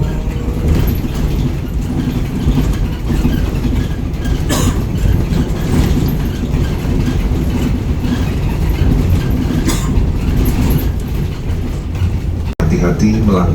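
A TransJakarta bus pulls away from the Tegal Mampang stop, its engine and chassis rumbling loudly and steadily with rattling and clattering from inside the cabin, and a short break in the sound near the end.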